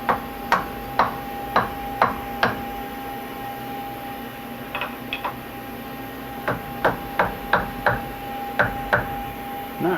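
A block is tapped into a machinist's vise while setting up an injection mold part, sharp metallic knocks in quick evenly spaced groups with pauses between, close over a steady shop hum.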